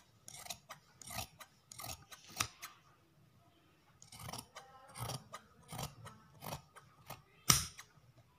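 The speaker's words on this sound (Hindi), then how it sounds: "फिर इसे मैं थोड़ा सा तिरछा ऐसे कटिंग करूंगी" Scissors snip through fabric being cut for boys' trousers: a close, crisp series of about a dozen short cuts in an uneven rhythm, with a brief pause midway and no talk.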